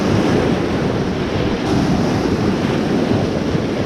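Sea waves in heavy swell break along a UK coastline, a loud, continuous rushing roar mixed with blustery wind buffeting the microphone.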